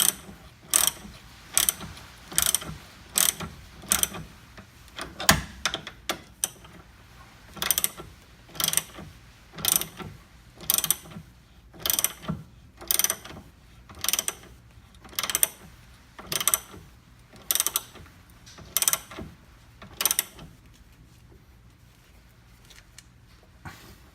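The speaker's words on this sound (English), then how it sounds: "I just went ahead and retightened this bolt up here with our 21 millimeter." Ratchet wrench retightening a bolt with a 21 millimeter socket, sharp rapid clicking bursts repeating in a steady rhythm of strokes, close and loud, with no talk.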